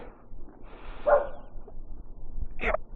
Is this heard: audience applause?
no